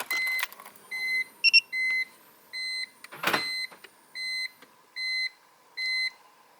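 Inside a BMW E46 with the ignition switched on, a string of electronic chimes rings out, about eight clear evenly spaced beeps with a quick double tone and a brief mechanical whir in between, close and alone.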